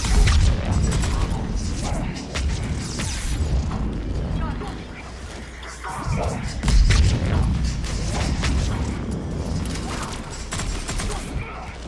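Grenade blasts and gunfire in the video game Mass Effect 3 during a multiplayer adept mirror match, with dense booming explosions, crashes and thuds continuing loudly throughout amid chaotic battle noise and occasional voices.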